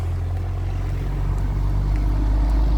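A loud truck passes close by, a steady heavy low engine rumble that holds and swells slightly toward the end, with no voices over it.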